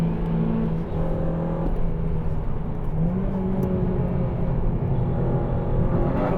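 A Honda Civic Type R and a Suzuki Swift Sport drive on a racetrack, heard as a continuous loud engine drone with a shifting, rising pitch and steady road roar, without voices.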